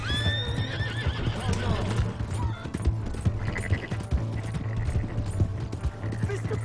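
A horse in the video game Red Dead Redemption 2 gives a loud, close whinny at the start, followed by busy hoofbeats and scuffling with other game sounds layered over them.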